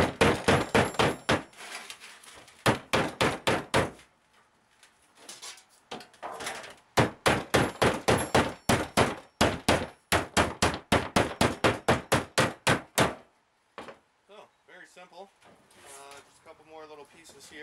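Rapid, loud metallic hammer strikes beat out bent metal parts on a lawnmower dump trailer, coming in long fast runs with short pauses, followed by a few quieter knocks and brief talking at the end.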